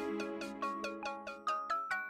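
A phone rings in a household scene from a Marathi TV serial, giving a fairly quiet, evenly spaced run of short chiming pulses with no voices over it.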